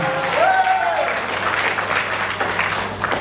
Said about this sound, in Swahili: Naomba mwapigie makofi mengi.